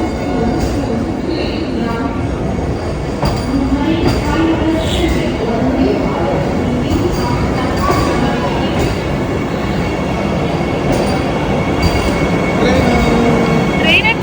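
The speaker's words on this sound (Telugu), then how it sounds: "ట్రైన్ వచ్చేసింది" A train pulling into a railway station, a loud rumbling roar of wheels with squeals and clacks running throughout, and voices of waiting passengers mixed in.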